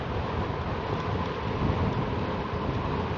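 Strong wind buffets the microphone while riding a 2018 Rad Power RadMini electric fat-tire folding bike, a loud, steady broadband roar with no break across the whole stretch.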